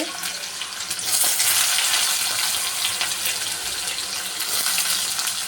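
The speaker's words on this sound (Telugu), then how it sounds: "అందులోకి జీలకర్ర వేసుకొని ఆనియన్స్ వేసుకుందాం రెండు పెద్ద సైజు ఆనియన్స్" Onions and cumin seeds fry in a pan, giving a steady, bright broadband sizzle that swells after the first second and holds, close and fairly loud, with no voices.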